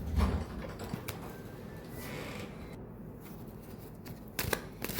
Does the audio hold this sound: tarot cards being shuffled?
yes